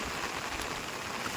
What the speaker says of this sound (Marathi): आता बारीक पाऊस